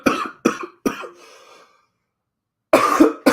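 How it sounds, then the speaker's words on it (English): A person coughs three times in quick succession with a faint breathy tail, then after a pause gives another harsh cough, close and unaccompanied. "The cough."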